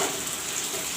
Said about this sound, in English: Let the onions fry.